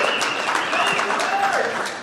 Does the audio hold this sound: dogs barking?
no